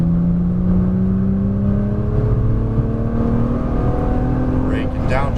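A Nissan GT-R pulls out of a corner on a racetrack, its engine note rising steadily as it accelerates; loud and close, with a sustained drone and wind roar under an instructor's coaching voice.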